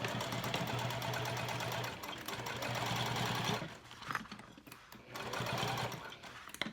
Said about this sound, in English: I'm going to sew it at 1/4 inch, or maybe just slightly larger than 1/4 inch